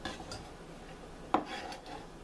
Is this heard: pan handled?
yes